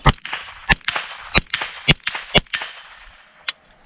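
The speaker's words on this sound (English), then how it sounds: "Let's go for the MGM gong" A .22 LR rifle fires at an MGM steel gong: several sharp cracks at irregular intervals, each followed by a bright metallic ring, loud and close with no talking.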